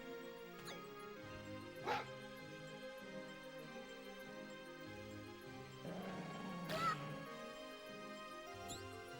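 A dog barks and yelps sharply twice, once early and once midway, against a steady background score in an animated scene.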